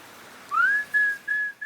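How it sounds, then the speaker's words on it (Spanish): A person whistles a tune in clear, pure notes: a rising opening glide followed by three sustained tones separated by short gaps, close and alone against a quiet background. "Ahí va componiendo, y silbando al mismo tiempo."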